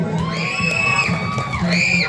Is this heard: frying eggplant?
no